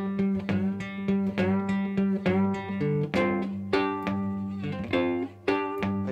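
Three-string cigar box guitar plays a blues scale riff with triplets, a steady rhythmic pattern of twangy plucked notes over a repeating low drone, close and fairly quiet with no talk.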